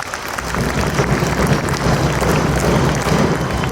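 An audience at a school Independence Day event claps loudly for the MCs, a dense, steady roar of many hands that holds for several seconds without a break.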